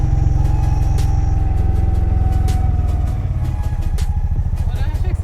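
A tuk-tuk's small engine chugs in a loud, steady low putter close by, its pulsing rhythm shifting and picking up as the clutch is let out in first gear and the throttle opens.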